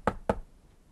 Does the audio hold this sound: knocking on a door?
yes